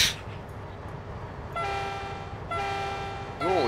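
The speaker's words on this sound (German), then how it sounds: "Was sind das für Hupen?" A train horn in the video game Trainz Simulator 2012 sounds in three loud, sustained blasts over a low rumble, the last one rising and wavering.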